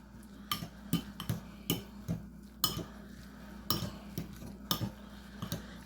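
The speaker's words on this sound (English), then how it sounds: "So that the salmon and crab all mixed together" Canned salmon and crab stirred together in a bowl: steady rhythmic clinks and scrapes of a utensil against the bowl, close and clear, repeating about twice per second with no talk.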